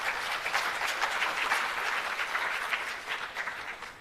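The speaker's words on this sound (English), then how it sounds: "Let's give all ourselves a big round of applause, ladies and gentlemen" A large audience at a launch event for 4IR centres of excellence breaks into full, continuous applause, a thick wash of many hands clapping at an even, steady loudness throughout.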